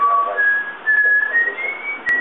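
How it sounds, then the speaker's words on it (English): A person whistles a slow tune to a pet cockatiel, clear sustained notes stepping gradually upward, close and fairly loud with nothing else over it. "Kaka, you whistle for him"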